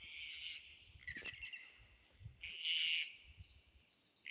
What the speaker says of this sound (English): Beautiful big native parrot.